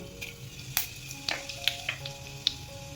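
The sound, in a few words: cumin seeds sizzling in hot oil tempering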